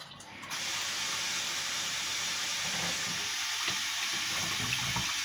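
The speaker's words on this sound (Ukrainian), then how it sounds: "Додаю воду." Water pours steadily into a pot with a bright rushing hiss, beginning abruptly and continuing evenly, close by and fairly quiet.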